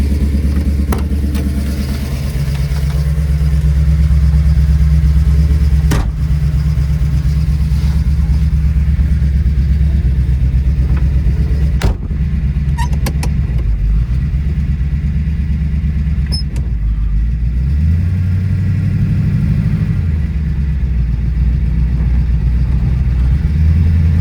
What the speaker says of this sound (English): We're going to take this one for a ride.